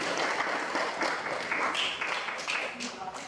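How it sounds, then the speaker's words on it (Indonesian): Classroom audience applauds a student group after their presentation, a sustained wash of clapping with a voice speaking over it. "Mari kita beri aplaus untuk kelompok 1"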